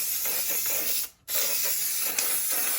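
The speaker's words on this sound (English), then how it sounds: "just want to kind of spray everything down" Short bursts of spray adhesive hissing onto the backing of a tufted mirror rug, close and steady, with a brief pause before spraying resumes.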